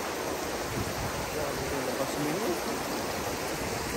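Strong river current rushing through a remote river in Palawan, a steady, close, broadband roar of flowing water that stays constant throughout with faint voices beneath.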